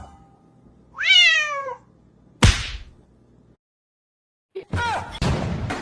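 A cat gives a couple of clear, rising-and-falling meows separated by a sharp smack and short pauses, close and loud.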